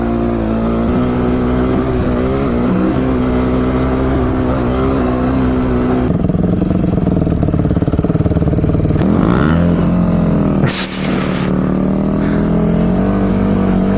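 A KTM Duke motorcycle on an off-road trail at a resort, its engine droning loud and continuous with rising revs and throttle bursts, close to the listener.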